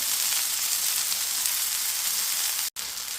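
A mutton burger patty fries in a hot pan with a dense, steady sizzle, close and loud, broken by one very brief gap near the end.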